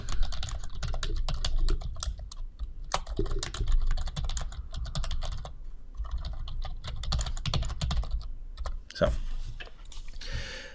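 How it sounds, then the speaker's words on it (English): Fast, irregular clicking of fingers typing on a computer keyboard during a live software demonstration of motion-capture studio tools, close and steady throughout, with brief pauses between bursts. "let me type something to Oscar real quick."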